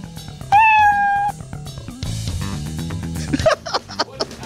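A cat meow sound effect: one loud, drawn-out meow near the start, followed by busy background music and clattering.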